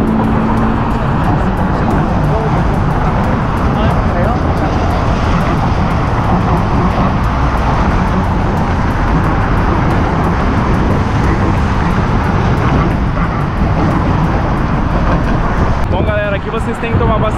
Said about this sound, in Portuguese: Como vocês podem ver aqui, ó, vários carros já estão passando.